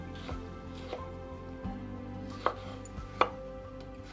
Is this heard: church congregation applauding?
no